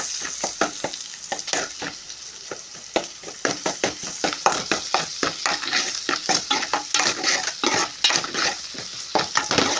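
Garam masala and ginger-garlic paste frying in a pan, with a steady sizzle broken by frequent sharp scraping taps of a spoon stirring against the metal, close and moderately loud with no talking.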